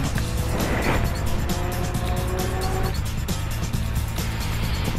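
Cars drag racing side by side to the finish line in a 680 and 640 class challenge series, engines roaring loud and steady with a brief tire squeal, no voices.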